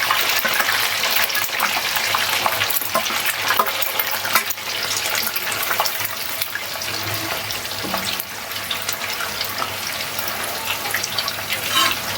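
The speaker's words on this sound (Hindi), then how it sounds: "अब मैं इसको फ्राई के लिए रख देती हूँ।" Food fries in oil in a home kitchen, giving a loud, dense, continuous sizzle and crackle that stays steady throughout, with no voices.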